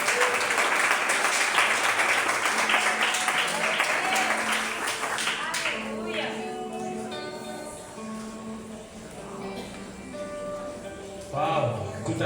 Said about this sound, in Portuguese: Aplauda para o nosso pastor.